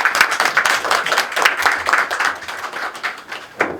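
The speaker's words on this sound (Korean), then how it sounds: "여러분들 큰 박수로 맞이 부탁드립니다" A seminar audience at a product launch event claps in a dense, steady burst of applause that tapers slightly toward the end, with no talking over it.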